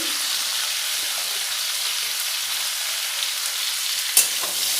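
Cauliflower florets frying in a pan with turmeric and salt, giving a steady close sizzle throughout, with a brief sharp clatter near the end.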